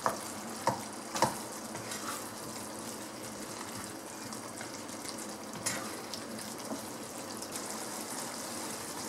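Fried chicken pieces stirred into a simmering curry gravy for a Malay chicken curry stew, giving a steady wet bubbling sizzle with a few sharp scrapes and clinks near the start.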